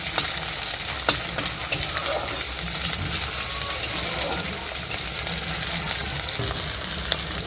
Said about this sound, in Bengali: একটা গোটা টমেটো এটাকে পিস পিস করে কেটে রাখা ছিল দিয়ে দেওয়া হলো ভালো করে এগুলোকে একটু কষিয়ে নেওয়া হবে